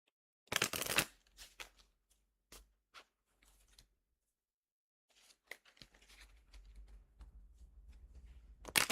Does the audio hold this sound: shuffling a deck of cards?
yes